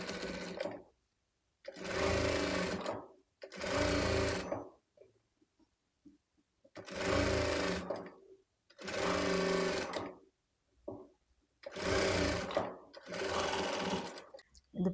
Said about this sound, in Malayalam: അതുപോലെ തന്നെ നമുക്ക് ഓപ്പോസിറ്റ് സൈഡും സ്റ്റിച്ച് ചെയ്തെടുക്കാം.